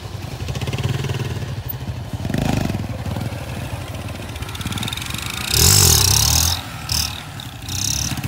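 A motorcycle engine roars steadily close by, rising in pitch as it revs harder midway, then easing and revving again.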